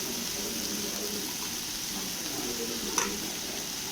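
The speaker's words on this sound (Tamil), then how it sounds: "இந்த வெங்காயம் நல்லா பொன்னிறமாக வதங்கணும்." Chopped onions sautéing in hot oil for prawn thokku give off a steady, broadband sizzle with soft stirring scrapes and one sharper clink near the end.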